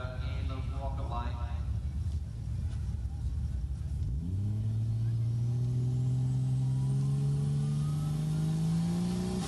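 A Toyota Cressida with a 1JZ engine launches on a drag strip's rocket lane. A rumbling idle rises into a loud, steadily climbing rev as the car pulls away, heard under crowd and commentary noise.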